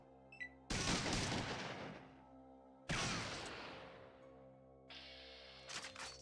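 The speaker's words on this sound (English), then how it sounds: "doing burst shotgun shots on these ants" Two heavy booming shotgun bursts fired at ants in Fallout 2, each loud and close with a long decaying tail, followed by a fainter clatter near the end.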